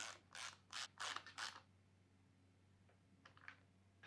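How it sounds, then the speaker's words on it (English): Ratchet turning a 9-1 pin tool to thread a bike fork top cap back in, a run of about five quick close ratcheting clicks, then near-silence with a few faint clicks. "We'll use our 9-1 pin tool and ratchet to thread it back in."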